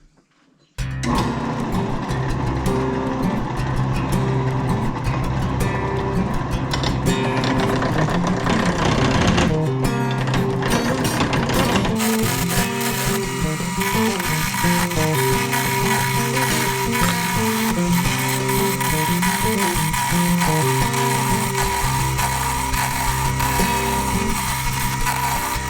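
A wood lathe spins steadily while a spindle gouge chisel cuts the turning workpiece, giving a continuous rattling, chattering whir that starts abruptly and grows rougher and busier partway through.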